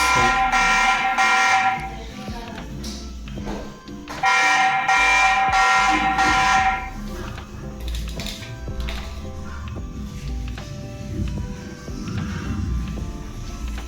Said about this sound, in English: the moment it detected my face, it started alarming